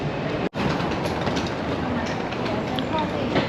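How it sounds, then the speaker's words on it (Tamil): A metro train passes through Kuala Lumpur, a steady loud rolling rumble with rail noise filling the whole stretch, heard close by alongside city ambience. "அங்கே பாருங்கள் ட்ரெயின் போகுது மெட்ரோ"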